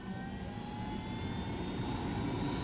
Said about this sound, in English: I have the helicopter!